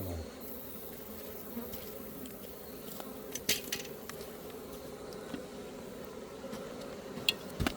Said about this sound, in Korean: 지금 서양종 꿀벌이 자기네 집 입구로 왔다 갔다 하니까 비상 걸려갖고 지금 입구 집구로 나왔어요.